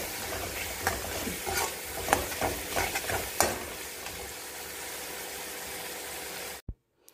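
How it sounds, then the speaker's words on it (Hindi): Vegetable curry cooking in a pan, with a steady loud sizzle under repeated scraping stirs of a spoon, then an abrupt cut to near silence and a final soft knock. "तो फिर चलिए मैं जल्दी से सब्जी बना लेती हूँ"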